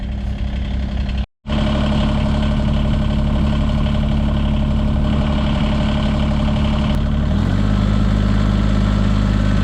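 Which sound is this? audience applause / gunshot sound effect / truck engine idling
truck engine idling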